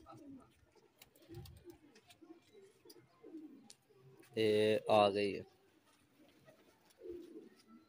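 Pigeons give a loud, close burst of cooing in two quick phrases midway, with softer bird sounds and someone talking quietly before and after.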